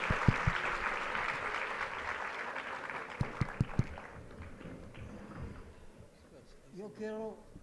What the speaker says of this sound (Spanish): Otra vez, otro aplauso, por favor.